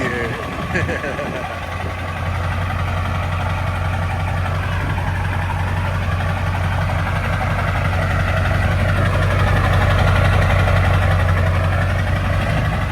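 A lifted Ford F150 truck with about 400,000 miles idles after starting, a loud, steady, low diesel-like rumble that holds throughout and swells slightly near the end.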